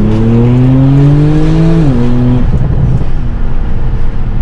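Porsche 991.2 Turbo S with a catless TechArt exhaust pulls hard in second gear, a loud, close engine note rising steadily before a brief dip at a gear change and continued strong drone.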